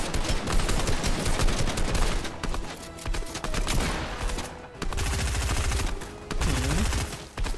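SMG fire in Fortnite, rapid bursts of automatic gunfire in several loud volleys with short pauses and fast rattling shots throughout.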